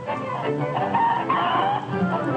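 Farm hens clucking and cackling in a flock, a close, fairly loud run of busy calls in an old educational film about egg-laying chickens.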